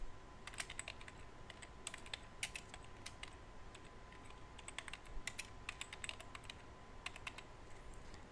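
Text being typed on a computer keyboard: a steady run of close, quick key clicks in uneven bursts with brief pauses, over a faint hum and no talking.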